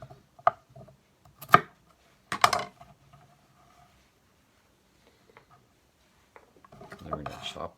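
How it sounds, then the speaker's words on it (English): Carrots are chopped with a knife on a board in a few sharp, spaced strikes, then a quicker burst of cuts near the end, close and fairly quiet, with no talking. "And we're gonna chop them up."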